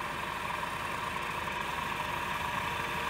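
A Raboma heavy duty radial drilling machine from Germany, 75 mm capacity, runs its spindle at 1800 RPM, giving a steady, faint mechanical hum with a fine regular low pulse and no voices.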